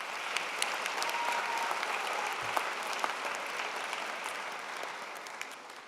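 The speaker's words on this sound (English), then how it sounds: "Give yourself a round of applause." Graduates at a university convocation ceremony give a sustained round of applause, a broad, even crowd clapping that stays steady and moderately distant throughout.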